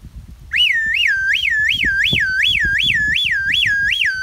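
A whistle imitates an ambulance siren, a loud, piercing wail rising and falling in quick regular cycles that starts abruptly and repeats about ten times, with faint background noise underneath.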